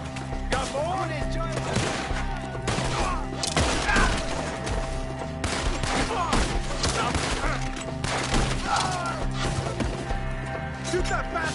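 Red Dead Redemption 2 shootout against Skinners hiding in trees: rapid bursts of gunfire and sharp impacts crowd the scene amid shouting voices, with loud, dense shots throughout.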